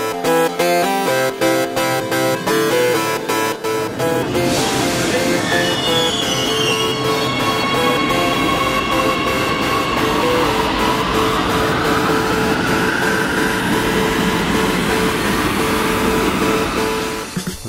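A Warsaw Metro Line 2 train runs continuously, its motor whine rising and sliding in pitch over a steady rumble of wheels on track.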